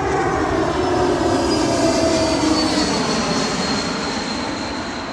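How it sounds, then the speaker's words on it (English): An airplane passes overhead outdoors in a garden during tomato planting, a steady, loud broadband roar that swells and holds, then eases slightly, with no talking. "plane, hang on."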